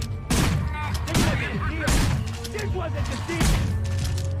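Shotgun blasts in the video game Manhunt, several sharp booming shots spaced apart amid dense game noise and music, with speech-like voices mixed in.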